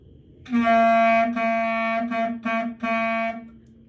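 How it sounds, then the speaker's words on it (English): A clarinet plays a short rhythm of two quarter notes, two eighth notes and a final quarter note, each tone clear and sustained with brief gaps between them, close and solo with no voices. "So if I was going to play a rhythm of quarter, quarter, eighth, eighth, quarter note, it would sound like this."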